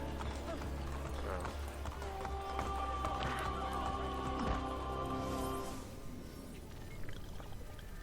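Horse hooves clip-clop steadily in Assassin's Creed Brotherhood, a running gallop under game music and ambient noise that fades slightly near the end.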